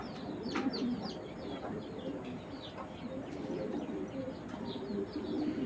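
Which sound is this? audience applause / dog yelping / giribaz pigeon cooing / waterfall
giribaz pigeon cooing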